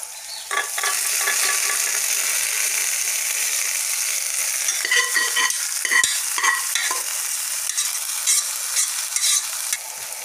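Cooked horse gram tossed into a pan with turmeric, a steady sizzle followed by repeated spatula stirring and scraping that grows busier midway.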